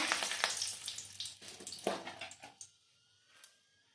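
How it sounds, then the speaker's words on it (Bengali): A bay leaf dropped into hot oil for a village-style bird meat curry sizzles loudly, with crackling bursts that fade to quiet after a few seconds. "ওই তেলে এবার দিয়ে দেব আমি একটা তেজপাতা"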